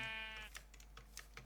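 A Minecraft sheep bleats once in a wavering, nasal tone, followed by a few faint soft clicks like keyboard typing, all fairly quiet with no talking.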